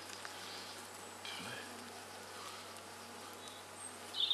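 Faint, steady buzzing of many honeybees at an open hive fills the air as a soft continuous hum, with a brief rustle partway through.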